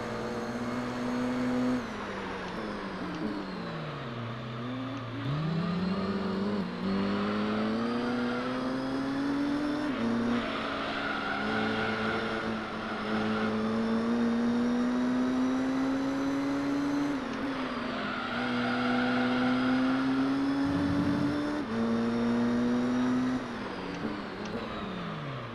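Racing car engines in the video game Gran Turismo 3 at Laguna Seca, with a Corvette among the field, a steady loud drone whose pitch climbs and drops through gear changes and corners, continuous with no talk.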